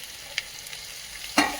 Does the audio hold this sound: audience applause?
no